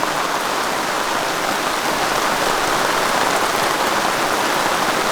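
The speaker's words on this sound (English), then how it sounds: "Shouldn't rain like this forever." Heavy rain pours steadily onto a backcountry campsite, a dense, even hiss of drops drumming on surfaces, close and loud without pause.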